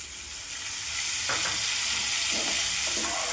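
Green garlic frying in a pan with browned ginger paste for Kathiyawadi eggplant bharta, a steady close sizzle with a few soft stirring scrapes and no talk.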